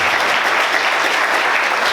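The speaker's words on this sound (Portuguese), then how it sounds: "Quantos podem aplaudir Jesus?" A church congregation claps together during a worship service, a dense, loud, even burst of applause filling the room.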